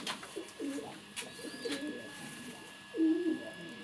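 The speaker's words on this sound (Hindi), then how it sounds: "ये कबूतर बड़ा लाजवाब है" Pigeon cooing close by, several soft throaty coos in short phrases with a louder coo near the end, over a faint steady background hum.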